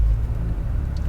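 A 2023 Ford Ranger Raptor 3.0-litre twin-turbo V6 petrol engine fires up with a short burst, then settles into a steady low rumble heard close by, with no talking over it.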